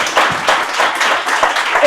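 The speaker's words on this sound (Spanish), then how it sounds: "yo creo que merece un aplauso, ¿verdad, Laura?" A small audience claps at the close of a talk about health data, patients and trust in Europe, a short, dense burst of hand claps at close range with no speech over it.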